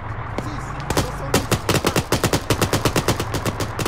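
Rapid automatic gunfire in an Arma military video game operation sounds as a loud, close burst of rhythmic shots that quickens into a sustained rattle, with quieter single shots before it.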